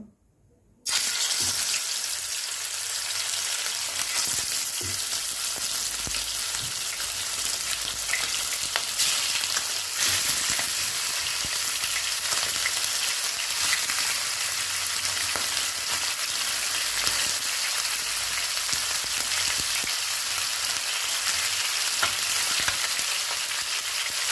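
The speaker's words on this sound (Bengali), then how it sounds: "এবার ভাজার জন্য চিকেনগুলোকে আমি ছেড়ে দেব" Chicken pieces dropped into hot oil in a wok set off an abrupt burst of loud, dense sizzling, then a continuous steady crackle with occasional stirring scrapes.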